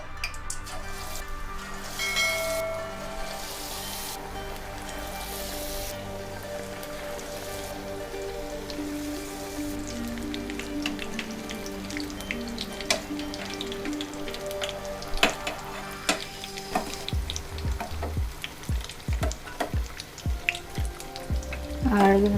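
Raw banana bajji frying in hot oil in a kadai, a dense steady crackle and sizzle, close, rising into sharper pops and spatters toward the end.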